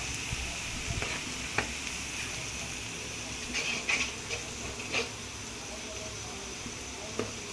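Onion frying in a pan in a home kitchen, a steady soft sizzle with occasional clicks and utensil taps, while voices murmur in the background.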